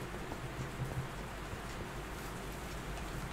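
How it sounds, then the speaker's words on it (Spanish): Rain falls in the video game Minecraft, a steady, soft hiss of rainfall that runs evenly through the whole stretch with no talking over it. "Mira, lloviendo como en la vida real."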